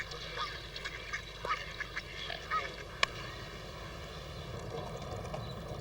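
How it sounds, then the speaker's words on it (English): Canada geese call on a park lake in urban London, faint, scattered honks heard at a distance over a steady low background hum, with one sharper click partway through. "such as Canada geese"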